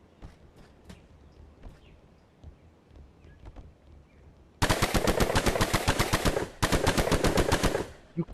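Gunfire in a VR physics game: after a quiet stretch of faint knocks, sustained rapid automatic bursts hammer out loud and close in two long runs, separated by a short pause.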